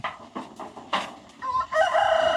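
Chickens around a coop give close, choppy bursts of clucking, followed by a rooster crowing loudly at the end.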